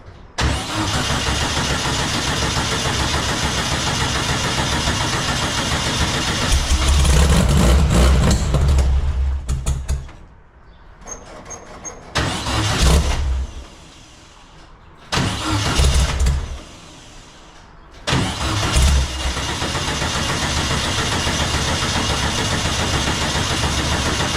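A 1956 Volkswagen Beetle engine cranks repeatedly without catching, likely from a bad fuel pump, with loud sustained churning bursts of starter cranking separated by short silences.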